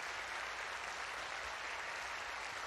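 Steady applause from a large crowd at a performance in the visual novel game Flowers, a dense unbroken wash of clapping that stays even and fairly quiet throughout.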